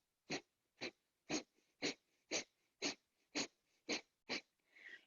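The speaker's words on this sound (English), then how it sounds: "You have the option here to add breath of fire." Breath of fire, a rapid yoga breath, is taken as nine sharp, forceful exhales through the nose at a steady pace of about two per second, close and fairly quiet, followed by a softer breath at the end.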